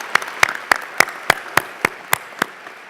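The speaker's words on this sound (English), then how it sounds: "I want to give one more round of applause to that faculty who've done a great job" Applause at a college commencement ceremony for osteopathic health sciences graduates, honoring the faculty, sounding as a series of evenly spaced sharp claps, about three per second, fairly close and distinct over a quiet hall.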